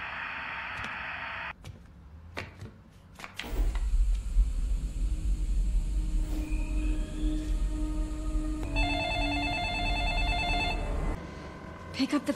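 A telephone rings in a tense horror-film scene, with bright repeated ringing bursts over a deep rumbling, ominous score and sharp hits, fairly loud and sustained.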